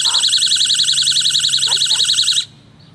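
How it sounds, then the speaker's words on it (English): A mini motion detector travel alarm, used as a personal alarm, blares a shrill, rapidly warbling electronic siren loudly and continuously for a couple of seconds, then cuts off abruptly, leaving quiet room tone. "the mini alarm also functions as a personal alarm"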